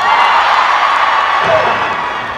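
A crowd at an outdoor autumn evening concert breaks into loud cheers, shrieks and applause, a thick close wash of noise that tapers off slightly near the end.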